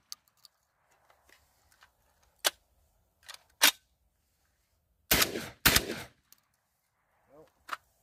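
Sharp gunshots from a Garaysar Fear-103 "Turkishnikov" semi-auto shotgun, a few single blasts followed by two loud close reports, each with a short ringing tail, separated by quiet gaps and faint handling clicks.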